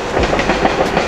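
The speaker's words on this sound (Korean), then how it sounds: "지하철이 지나가지고 시끄러운데" A subway train rumbles past close by on an outdoor track at night in the US, a loud, steady roar with faint rhythmic clacking of wheels throughout.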